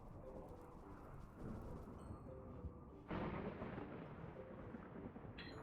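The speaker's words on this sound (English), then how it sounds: "Randy sure does love his dry thunderstorms." Dry thunderstorm thunder in RimWorld: steady rumbling rain-like wash with a heavier low surge rolling in midway, sustained and fairly loud throughout, no talking.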